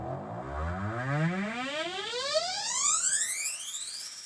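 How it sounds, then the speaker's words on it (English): A synthesized up riser effect built for a song mix sweeps steadily upward in pitch across about four seconds, its layered tones climbing together at an even, fairly loud level with no voices. "This is the up riser."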